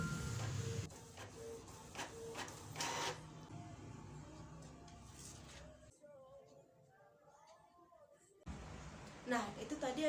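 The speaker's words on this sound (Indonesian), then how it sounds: "fotokopian pun atau printer pun akan berjalan." A Canon MG257S inkjet printer runs through a print job with rhythmic mechanical clicks and whirring carriage passes, a quieter pause, then a burst of motor noise again, while someone talks over part of it.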